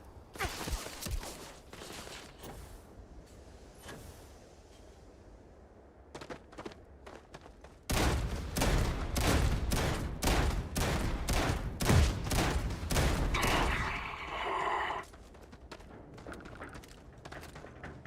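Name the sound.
gunfire shooting at the player in video game Starfield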